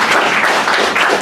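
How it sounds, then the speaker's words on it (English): Audience applause at the Perth Poetry Club, a steady broadband wash of many hands clapping that stays loud and even for the whole moment, with no voices over it. "Applause please for Mitchell and Christine."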